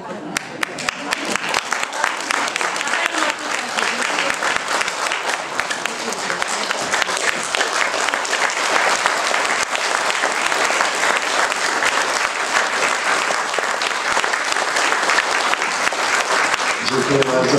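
A hall audience at a folk ensemble performance claps warmly and continuously, a thick, even applause that carries on close and loud for the full length before tapering slightly at the end.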